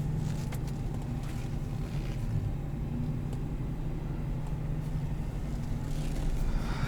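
A 2021 Ram 1500 Laramie pickup with a Borla exhaust rumbles steadily from inside the cab while driving, a low continuous drone with a deep exhaust tone and faint road noise.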